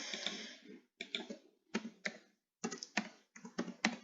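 Computer keyboard keys pressed while writing Python code, including Shift and Enter, heard as several short clusters of quiet, close clicks separated by brief pauses.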